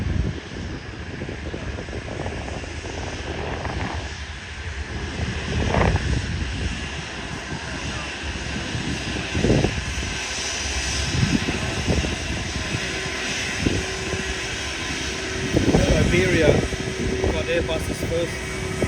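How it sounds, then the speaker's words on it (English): A Saab aircraft's engine runs steadily in the distance at Sydney Airport, a continuous droning roar with a high whine, while people talk nearby over it. "They must be doing an engine run with that Saab there."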